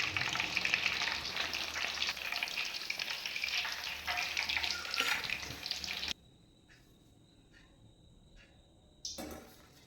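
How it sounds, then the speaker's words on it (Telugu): Brinjals for bajji frying in hot oil, a loud, close, steady sizzle that cuts off sharply partway through, leaving near silence with faint clinks before a brief return of noise. "రెండు వైపులా టర్న్ చేసుకుంటూ ఫ్రై చేసుకోవాలి."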